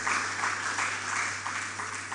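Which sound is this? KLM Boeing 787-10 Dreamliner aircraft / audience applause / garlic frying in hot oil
audience applause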